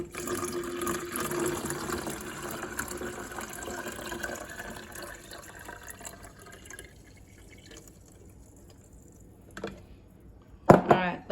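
Water runs and gurgles steadily into a plastic watering can, the filling sound fading gradually, followed by a couple of sharp plastic clunks near the end.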